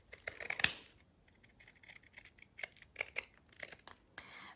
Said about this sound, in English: So I'm going to cut out a piece with my pinking shears.